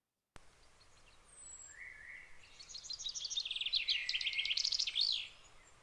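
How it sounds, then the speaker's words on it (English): A chaffinch sings one full outdoor phrase in Monkstown, an accelerating run of bright chirps building in loudness to a rattling flourish that ends abruptly, clear and alone against quiet background. "So here's the song of the chaffinch."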